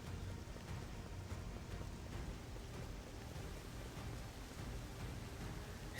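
Steady, faint rain falls in the Octopath Traveler 2 video game, a dense, even hiss of drops with a low rumbling undertone that runs unbroken throughout, with no voices.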